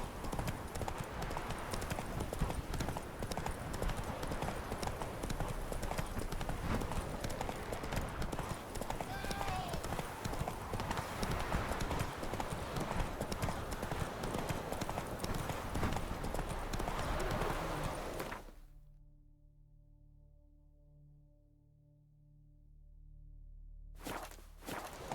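Horse galloping in The Witcher 3: Wild Hunt: steady, close, rhythmic hoofbeats for about eighteen seconds that then stop abruptly, with faint voices in the background.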